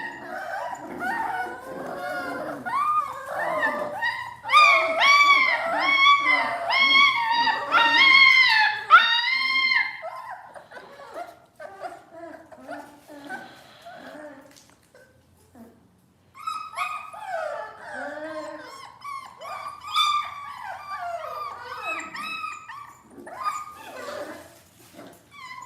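Puppies in a kennel whimper, yip and bark in high, wavering bursts, with a loud cluster of overlapping cries early on, a brief lull, then more whining and yelping close by.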